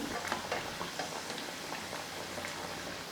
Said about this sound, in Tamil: 2 பக்கமும் நல்லா ஒரே மாதிரி ஃப்ரை ஆகிட்டு கலர் நல்லா மாறி வரும்